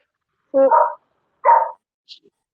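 A single dog barks twice at close range, with a sharp bark followed by a second one about a second later, and then a faint yip against silence.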